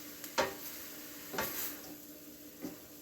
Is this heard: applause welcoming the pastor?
no